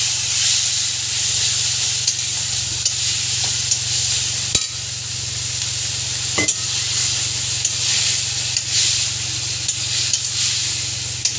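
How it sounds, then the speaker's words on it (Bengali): Masala paste with chili and a splash of water sizzles and hisses steadily in a pan, with occasional stirring scrapes and clinks over the continuous frying. "সুন্দর করে মশলাটা কষবো।"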